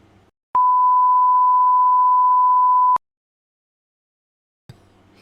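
A single steady electronic beep, a pure tone held for about two and a half seconds, loud and clean against near silence, with faint voice fragments just before and after.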